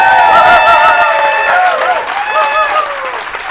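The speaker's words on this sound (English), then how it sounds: "She's starting to get more applause than I am." A crowd at a political event applauds and cheers loudly and steadily to welcome the First Lady of Missouri, with whoops and raised voices over the clapping.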